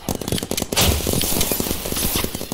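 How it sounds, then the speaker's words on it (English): Rapid, dense bursts of firing from a rocket weapon in the Roblox game Big Paintball crackle continuously over a couple of seconds, loud and busy with overlapping pops and a heavier blast partway through. "That rocket fires."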